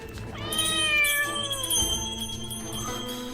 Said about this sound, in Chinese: 想必一定是这猫儿最近到了发情的季节，心里烦躁，这才出了意外